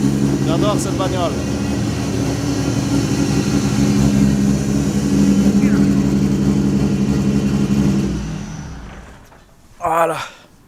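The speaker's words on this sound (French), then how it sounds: "Ça, vous avez entendu le bruit. Donc ici, 2JZ préparé 1600 plus." A Toyota Supra with a tuned 1600-plus horsepower 2JZ engine runs loud and close, rumbling and revving for about eight seconds before cutting off, followed by a short burst of talk.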